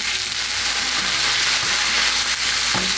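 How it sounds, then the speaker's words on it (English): White wine hitting hot browned mushrooms in a pan while cooking risotto, giving a loud steady sizzle and hiss that fills the whole stretch, with a brief clack of a pan or utensil near the end. "Now we're gonna deglaze the pan, as they say. We're gonna add a little white wine."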